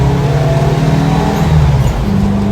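Steady loud engine drone from a 1970 VW bus with a 200HP turbo engine cruising at 60 mph, a continuous low hum with a slight pitch shift near the end.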